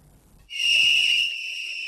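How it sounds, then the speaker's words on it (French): One sharp, shrill whistle blast sounds close and holds steady for over a second before cutting off, during a rally for education in Pabré, Burkina Faso. "Des coups de sifflet pour marquer leur engagement"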